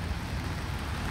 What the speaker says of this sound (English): It's still raining lightly.